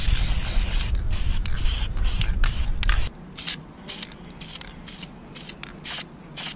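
Spray paint hisses through a Steve-O stencil onto skateboard griptape: one long, loud, steady spray, then a run of short, sharp bursts close to the microphone.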